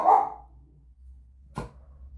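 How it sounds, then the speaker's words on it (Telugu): Dogs barking outdoors near a home where a blouse is being cut and sewn, one loud bark at the start and a second, fainter bark about a second and a half later, otherwise quiet apart from low background hum. "కుక్కలు అరుస్తున్నాయండి, వినిపిస్తుందో లేదో"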